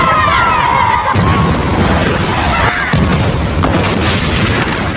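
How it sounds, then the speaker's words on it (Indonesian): Bombs explode in a war film battle against Taliban forces, producing loud, heavy booms and rumbling blasts that follow one another over dense, continuous battlefield noise. "Dari atas itu, Nelson kembali memberikan titik koordinat peluncuran bom."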